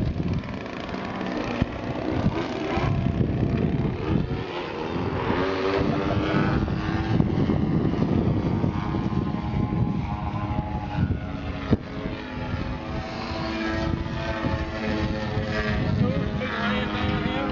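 A 50cc radio-controlled model airplane engine drones steadily while the plane flies, a constant buzzing roar that swells slightly in places, with people talking faintly beneath it.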